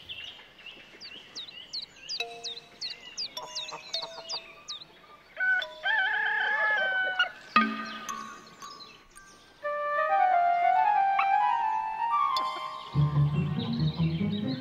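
Farmyard hens cluck and squawk in a busy run of short calls, with a rooster crowing in the middle and other birds chirping, loud and close with no voices.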